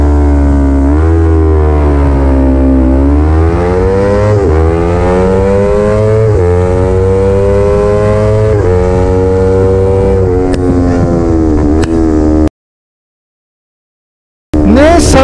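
Yamaha R25 motorcycles launching from a race start at Tsukuba circuit, a loud onboard engine revving hard and climbing through repeated gear shifts, then a sudden brief dropout before the engine roar returns.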